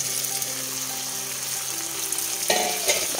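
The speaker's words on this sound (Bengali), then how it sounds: "মশলা কষানো হয়ে গেছে, এবার মাংসটা দিয়ে দেব।" Mutton going into a pan of hot oil and cooked-down spices, with a steady close sizzle that jumps louder as the meat hits the pan near the end; no talking.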